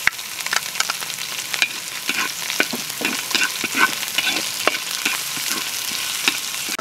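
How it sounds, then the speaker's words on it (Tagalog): Garlic, onion and ginger paste sizzle and fry in a hot pan, with steady crackling and frequent scraping stirs close up throughout, no voices. "Magigisa tayo sa bawang. Sunod na natin ating sibuyas."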